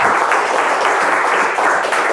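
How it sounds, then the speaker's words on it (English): Applause from the audience after a lecture on President Ulysses S. Grant, military realism and foreign policy, a loud, continuous wash of many hands clapping close by, with no pauses. "Let's give another round of applause to Dr."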